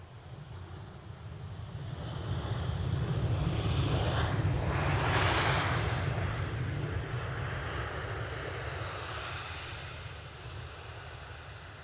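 Aircraft at Edinburgh Airport, British Airways planes landing and taking off, with a steady engine roar that swells to a peak mid-way and slowly fades, mixed with wind noise, no talk.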